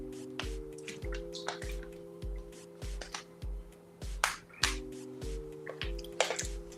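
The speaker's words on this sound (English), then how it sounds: "I'm assuming people can just hear me drink" Person drinking water close to a highly amplified microphone, a series of wet gulps, sips and mouth clicks over a steady rhythmic background music loop.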